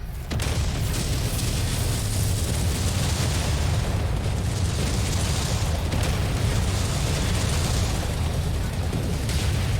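Mech shotgun blasts and explosions in the video game MechWarrior 5 roar continuously and loudly, a dense, unbroken barrage of booming bursts for the whole stretch.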